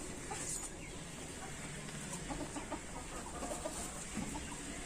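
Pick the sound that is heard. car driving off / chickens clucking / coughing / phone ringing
chickens clucking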